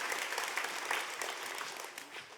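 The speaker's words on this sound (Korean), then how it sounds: "우리 하나님께 믿음의 감사의 찬양의 박수를 주십시오" A church congregation gives a steady burst of applause that lasts the whole stretch, evenly dense and moderately loud, with no voices over it.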